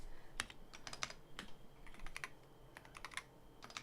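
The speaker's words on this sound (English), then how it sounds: "there's some people who can like figure out what keyboard you're using based on the sounds" Computer keyboard typing, crisp irregular key clicks in quick bursts with short pauses, close and fairly quiet, with no talking over them.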